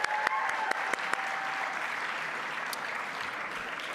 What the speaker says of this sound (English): So a round of applause for the Feit family